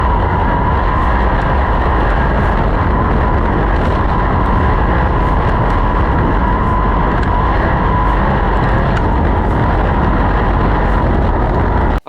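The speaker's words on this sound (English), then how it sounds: "listen to him staying on the gas for most of the corner" A sprint car engine on track holds a loud, unbroken roar as the driver stays on the throttle through most of a corner, dense and continuous throughout.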